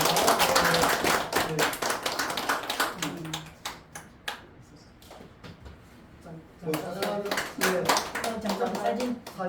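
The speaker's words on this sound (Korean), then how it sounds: "우리 함께 박수 해주시기" Scattered clapping from a small congregation at a church founding thanksgiving service for a Baekseok presbytery, sparse and uneven at first, thinning in the middle, then swelling again with voices talking over it.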